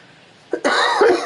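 A single sharp cough, loud and close, follows a brief throat-clearing catch, set against quiet background during an MLB The Show 23 baseball game stream.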